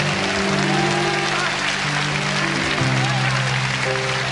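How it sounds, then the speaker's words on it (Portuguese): A church congregation applauds during a morning service: broad, continuous clapping fills the clip beneath sustained musical or voiced tones that shift in pitch. "Será que você pode aplaudir ao Senhor nesta manhã?"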